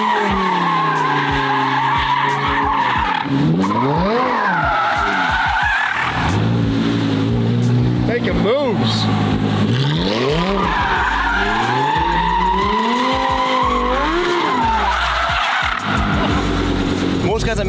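Hypercar skidding through drifts with long, loud tire squeals over a high, sweeping engine roar that rises and falls, close and continuous, with bursts of throttle between slides.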